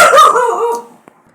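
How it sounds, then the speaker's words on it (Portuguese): A dog barks once indoors, a single loud, close bark that trails off into a short whine, followed by a faint click. "Tem meu cachorro aqui latindo."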